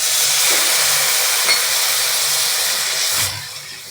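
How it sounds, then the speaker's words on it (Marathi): Water poured into a hot pan of sautéed guava pieces sets off a loud, steady sizzle and steamy hiss that keeps going for several seconds, then drops away near the end. "आता मी यात थोडंसं पाणी घालते"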